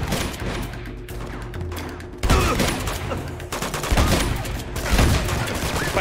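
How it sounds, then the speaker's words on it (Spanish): Sustained video game gunfire in Uncharted 2: Among Thieves, dense rapid bursts of shots and automatic fire filling the whole stretch, loud and continuous with heavier surges partway through. "¿Cuánto tiempo llevo metiendo tiros?"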